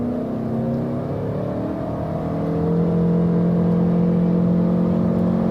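A 2021 Toyota Highlander 2.5 hybrid SUV engine climbs steadily in pitch as it accelerates hard, a close, rising whine and hum with no talking.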